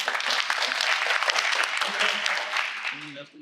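Dense audience applause for a speaker at a civic summit, loud and steady clapping filling the room before tapering off as a voice begins at the end.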